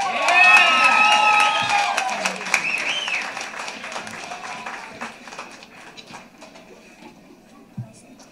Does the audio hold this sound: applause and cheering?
yes